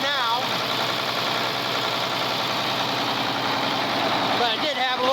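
Tractor diesel engine idles steadily with a slight miss from a suspected faulty injector, a continuous low chugging rumble close by while someone talks over it.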